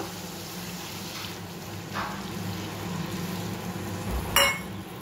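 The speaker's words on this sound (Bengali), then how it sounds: "এইবার আমি জল দিয়ে দেবো।" Water is poured into hot frying spice paste in a pan, giving a steady broad sizzling hiss that builds slightly, then a brief sharp clink near the end, with no voices.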